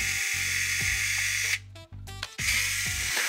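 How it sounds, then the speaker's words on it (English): A Phillips screwdriver removes screws from the back of an FD-90A gas sensor. Close, continuous whirring runs steadily, then cuts out briefly and restarts. "just grab yourself a Phillips screwdriver and pop off these four screws at the back here"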